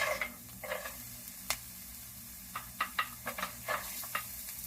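Onion and carrot frying in a pan for a diet-friendly fried rice, a quiet sizzle under a series of short spatula scrapes and taps in an uneven rhythm, close by with no talk.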